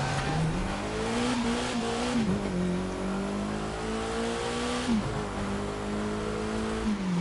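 A Ferrari race car engine in The Crew 2 drones loud and steady, its pitch climbing and dipping through gear changes with brief tire noise, and no talking.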